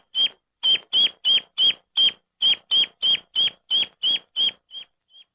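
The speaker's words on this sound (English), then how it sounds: "The duck sounds the distress call and searches for the object." A duckling separated from its toy gives a distress call: a fast, regular series of about fifteen loud, piercing peeps, each sharp and evenly spaced, close to the listener and fading on the last two.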